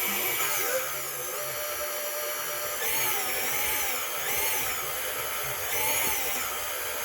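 A stand mixer kneads bread dough for buttery bubble bread, its motor whining steadily with a high-pitched tone that swells and dips in repeated cycles, close and continuous.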